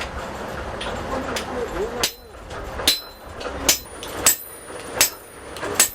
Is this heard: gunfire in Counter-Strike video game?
no